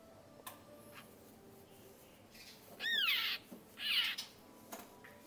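A white-rumped shama songbird, just released, sings two loud, bright bursts of whistled notes in the middle, with faint ticking and scattered clicks around them and no talk.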